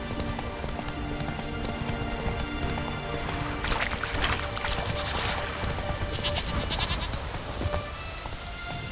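Roach, Geralt's horse in The Witcher 3, gallops with rapid hoofbeats over a busy bed of game music and ambience, while a sheep- or goat-like bleat rises midway.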